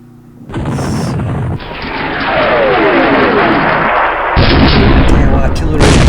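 Artillery fire in the Vietnam war strategy game Campaign Series Vietnam, at Khe Sanh: loud, dense booming barrages and blasts that roll continuously with sharp onsets, filling the whole stretch at close range.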